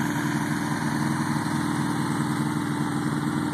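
A gold Honda CB750 motorcycle idles steadily, a loud, even, close engine rumble with a fast regular pulse and no speech.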